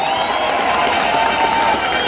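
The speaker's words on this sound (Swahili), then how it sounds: "wapi makofi ya DP jameni?" A crowd applauds the DP with dense, continuous clapping and some cheering, steady and loud for the whole two seconds.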